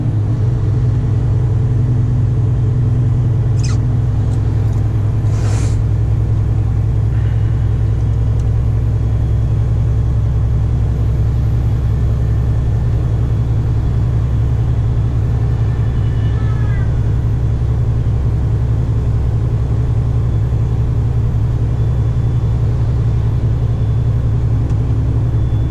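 A Scania G440 truck pulling a trailer cruises in ninth gear, heard from the cab as a loud, unbroken low engine drone and road rumble, with a few faint squeaks over it.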